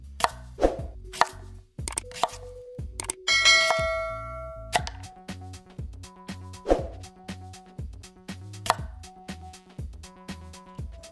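A knife slices the middles of large peeled onions into rings on a board, giving irregular close thuds and taps with a bright ringing chime partway through and no speech.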